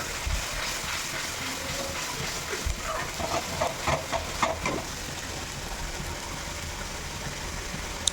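Biryani masala with a splash of milk is stirred and fried in a pan for chicken biryani, giving a low, continuous sizzle with rhythmic scraping strokes that come in a run of louder bursts midway.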